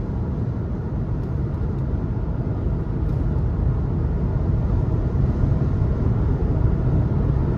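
Steady broadband wind rush inside a 2023 Nissan Versa SV with its 1.6-liter four-cylinder at speed, a constant loud roar with road hum and no speech.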